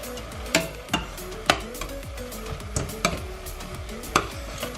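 Carrots, zucchini and other vegetables are stirred together in a pan for a Ghanaian meat pie filling, with a spoon scraping and knocking against the pan about eight times in an uneven rhythm over a faint sizzle.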